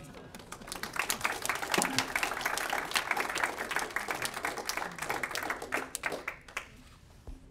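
An audience at a conference celebration breaks into sustained applause, dense clapping that swells quickly, holds for several seconds and then thins out.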